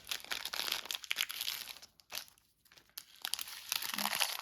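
Close, crisp crinkling of a small plastic bag of beads being handled, in irregular bursts with brief pauses, fairly quiet and with no talking.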